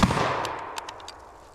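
A Fostech Origin 12 shotgun fires number 8 BioAmmo outdoors: one sharp loud blast up close, followed by a fading echo with faint distant crackles.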